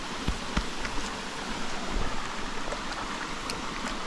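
River water flowing through a hot springs area in El Salvador makes a steady rushing wash with occasional splashes and clicks, close by and fairly even throughout.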